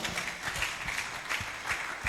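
An audience applauds during a church interview, steady clapping carrying on throughout the short moment, with no talk over it.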